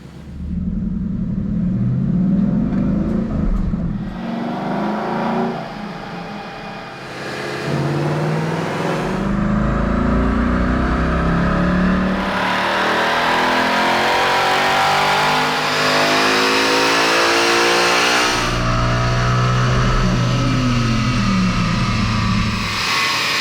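A stock 2012 Ford Mustang Boss 302 V8 strapped to a chassis dyno, revving loudly and repeatedly through rising and falling sweeps, with the engine note climbing steadily across each pull and no talk over it.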